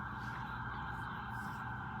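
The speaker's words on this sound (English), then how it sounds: "Sirens! It's almost like we're back in New York." Distant emergency sirens wail steadily across a Washington, DC city backdrop, a sustained tone blended with low traffic rumble, moderately faint.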